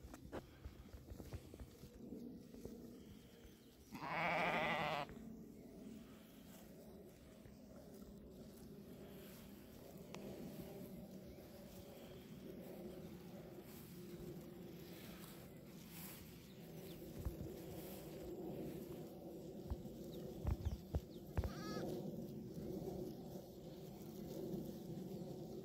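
Dorper sheep in a Westerwald pasture, one fairly loud bleat near the start and a shorter, fainter call later, over a steady low outdoor background.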